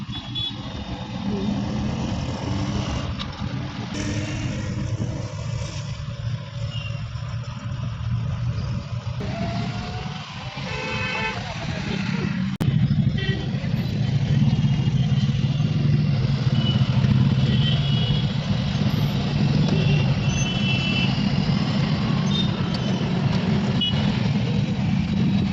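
A vehicle drives through crowded city traffic in Solapur, with a steady engine rumble, passing motorbikes, and road noise that grows louder midway.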